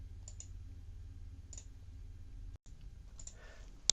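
A computer mouse clicks on a link in a browser: a few faint, sharp clicks spaced apart, with one louder click at the end over a low steady hum.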